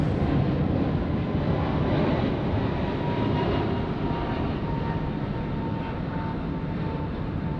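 A Jetstar jet takes off from Sydney Airport at night, its broad engine roar steady and loud throughout, with a faint whine riding on top.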